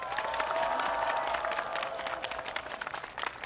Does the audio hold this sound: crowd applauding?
yes